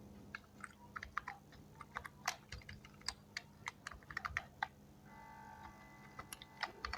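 Keys clatter on a computer keyboard in quick irregular bursts during Java web coding, with a few sharper presses near the end, close and fairly quiet, no talking.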